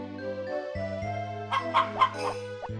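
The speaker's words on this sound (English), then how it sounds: "So Rick and Potpourri are in charge of the chicken farm" Chickens at a chicken farm in the Harvest Moon: Back to Nature video game, a few short clucks in quick succession over looping synthesized background music, moderately loud and close with no talk.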